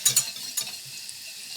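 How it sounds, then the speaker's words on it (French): Chopped shallot stirred in melted butter in a pan over lowered heat for a pink peppercorn sauce, a soft steady sizzle with a few sharp scrapes of the utensil against the pan. "le beurre est fondu, on ajoute l'échalote. Attention que ça ne prenne pas couleur, j'ai baissé le feu. Et on remue tout ça."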